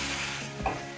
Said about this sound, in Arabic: اول لما الزيت يسخن معانا هننزل ببصله وسط كده مفرومه فرمه خشنه، وينزل يا معلم